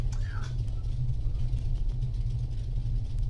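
A light aircraft engine idling after the throttle is pulled back, a steady low rumbling drone up close that holds even throughout, with a faint brief tone near the start.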